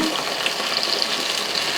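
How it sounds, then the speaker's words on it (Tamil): Tamarind water poured into a pan of sautéing onions in a home kitchen, a steady close liquid gush and sizzle lasting a couple of seconds, with no talk. "இப்போ இந்த புளி கரைசலை உள்ளுக்குள்ளே ஊற்றிக்கலாங்க"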